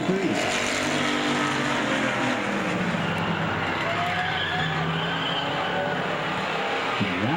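Race car engines roar loudly and continuously around a dirt oval, sustained and droning while an announcer calls the race over them.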